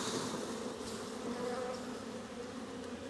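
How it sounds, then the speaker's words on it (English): Honey bees shaken into a hive on a Hawai'i homestead make a dense, steady buzzing swarm drone, continuous and fairly close, with no talking. "I'm just gonna give it a shake and let all these bees go inside."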